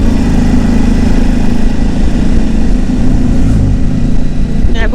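Motorcycle engines rumble loudly and continuously close by on a French touring ride, with a steady low drone and slight shifts as a BMW motorcycle goes past.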